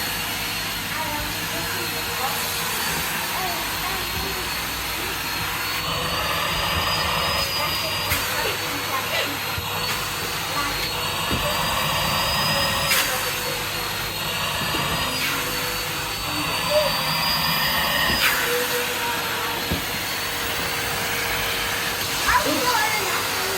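Two Henry vacuum cleaners linked together suck with a loud, steady motor whine and airy hiss, rising and falling slightly, with people talking over it throughout.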